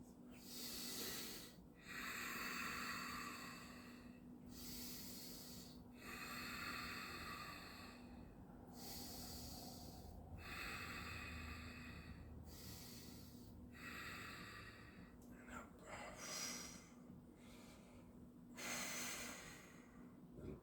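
Slow deep breaths during a yoga goddess pose, a wide squat with hands held out front: about six long, airy inhale-exhale cycles, close and steady, with no talking.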